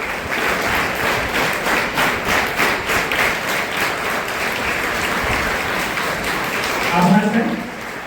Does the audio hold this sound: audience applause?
yes